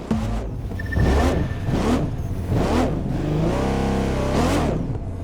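A Koenigsegg Gemera supercar engine in the game The Crew 2, not a V8, revs repeatedly in quick bursts, rising and falling several times, loud and close with a synthetic game-like tone.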